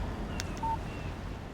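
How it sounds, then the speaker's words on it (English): A short electronic alert tone on a phone in Alan Wake, a single bright chime followed by a brief pure beep, faint and alone over a low background hum. "Text message from Barry."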